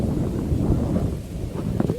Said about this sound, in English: Pretty windy today, too.